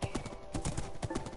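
Horse hooves clip-clop at a steady riding pace in a video game, a dense run of close, rhythmic hoofbeats.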